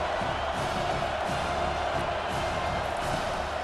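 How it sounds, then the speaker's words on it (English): A College Football 25 stadium crowd for Old Dominion at Utah roars in a steady, dense wash of cheering as the home defense tries for a red-zone stop, constant and broad with no pauses. "The crowd getting behind this defense as they try to get a stop in the red zone."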